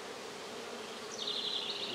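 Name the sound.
honey bees buzzing during hive inspection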